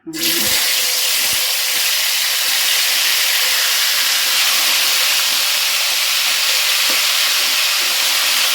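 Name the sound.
chicken legs frying in hot oil in a kadai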